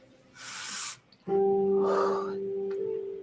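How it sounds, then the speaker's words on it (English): A single deep inhalation drawn in and held, followed by a long exhale, close and fairly loud, with a sustained tonal hum underneath after the first breath. "Take a deep breath."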